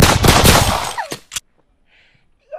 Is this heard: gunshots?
yes